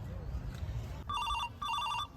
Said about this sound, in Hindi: कहलूँ फोन बाज रहा है यहाँ के।